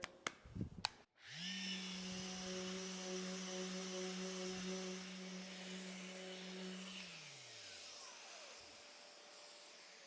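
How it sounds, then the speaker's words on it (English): An orbital sander with 400-grit paper works the edges of MDF, starting after a few handling clicks and humming steadily for several seconds with a constant tone before spinning down and trailing off. "I'm going to take the orbital here and I'm going to sand the edges here with 400."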